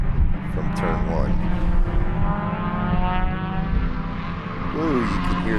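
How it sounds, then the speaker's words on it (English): B-Spec race cars go past at Sebring with their tyres howling, heard as a sustained, rising engine and tyre whine through the corner. A voice talks briefly over the noise. "you can hear the B-Specs tires howling."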